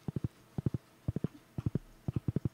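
Horse hooves in the video game Stardew Valley, steady clip-clop footfalls in quick groups of three or four, crisp and close with no talk over them.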